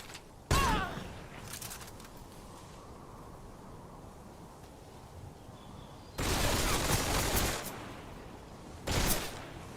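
Gunfire at a boss in Metal Gear Solid Delta: a sharp shot near the start, then a longer dense burst of shots and another short burst near the end, over low background ambience.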